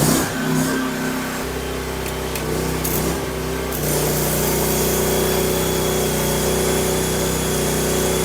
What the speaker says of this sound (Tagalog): Gasoline operated po yan. 4-stroke na po na welding generator.